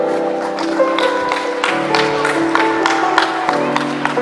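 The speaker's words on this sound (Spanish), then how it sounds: "Que se escuchen esas palmas." Applause for a graduating student at a primary school graduation ceremony: continuous crowd clapping with some cheering, loud and close, steady all the way through, with a background hum under it.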